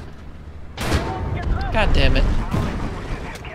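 Tank cannon fire in the War Thunder video game, including a HEAT round, gives two heavy blasts roughly two seconds apart over rumbling engine noise, and a voice curses in between.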